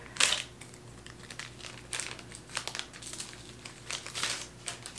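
Crinkly plastic wrapping of a panty liner pack being torn open, with sharp rustling bursts at the start, middle and end over a quiet indoor background.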